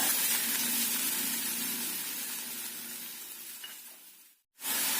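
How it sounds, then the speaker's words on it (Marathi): One finely chopped onion sautéing in oil with ginger pieces for a spinach dish, a loud, dense close sizzle that slowly fades, cuts out briefly near the end, then returns. "छानसं परतून घ्यायचं त्यामध्ये एक बारीक चिरलेला कांदा"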